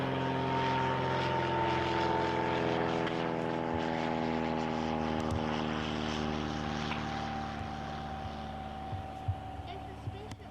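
A propeller airplane drones overhead at a distance, a steady tonal hum that slowly fades toward the end, with faint scattered noises in the background.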